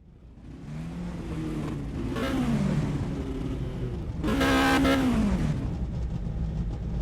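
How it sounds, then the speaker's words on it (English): Race cars in a racing video game rolling onto the starting grid on the Mexico circuit, engine tones rising and falling as two cars rev and pass close by, loud with a steady engine drone beneath. "Cars being pushed to the start-finish straight as we speak to assign their grid spot."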